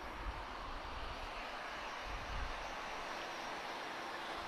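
An EasyJet Europe Airbus A320-214 airliner departing for Geneva: a faint, distant, steady jet engine rumble with low thumps of wind, no voices.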